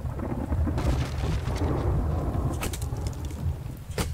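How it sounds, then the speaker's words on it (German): Thunder rumbles through a storm in the game The Infected, a deep rolling, sustained growl with scattered crackles, mixed with rain and ambient game sounds. "dieses Gewitter ist echt der Hammer."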